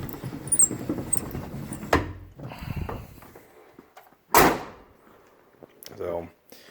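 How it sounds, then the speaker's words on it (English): The doors of a 1977 Super Cab truck are worked by hand, with a few scattered thumps and clunks and one sharp loud slam near the end, alongside bursts of a man's speech. "The doors open and close real nice."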